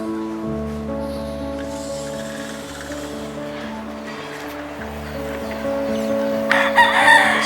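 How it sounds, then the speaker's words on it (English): Roosters crow repeatedly while chickens cluck nearby in Colombia, heard from a window, with a busier burst of crowing toward the end. "There's chickens, roosters, dogs."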